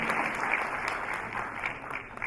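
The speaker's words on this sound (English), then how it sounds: "Give a big round of applause to all the three chapters." Faint, steady applause from an audience at a joint chapter event celebrating Indian Republic Day in the UAE, sounding distant and even throughout with no speech.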